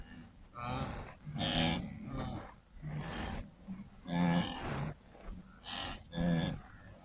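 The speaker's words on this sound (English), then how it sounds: "Definitely some steers and heifers, male and female, rutting bulls" Steers, heifers and rutting bulls low and moo in a series of long, drawn-out calls, several animals overlapping at moderate distance, with no talk.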